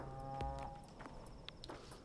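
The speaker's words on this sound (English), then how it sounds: "That sounds like a cow." Cow lowing once, low and fairly brief, near the start within the ambient soundscape of the Pathologic 2 video game, followed by faint footsteps and scattered noises.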